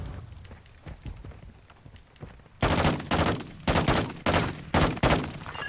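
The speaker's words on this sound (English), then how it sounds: "Justin, why are you shooting that far from them?" Gunfire in Call of Duty: Modern Warfare II: soft, low-level game ambience at first, then a series of loud, close bursts of automatic fire in repeated clusters through the second half.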